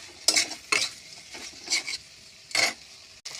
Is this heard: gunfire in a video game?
no